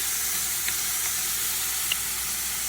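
Ground beef sizzles steadily in a hot pan while a spring roll filling is cooked, a loud, constant frying hiss with a few small pops and stirring clicks.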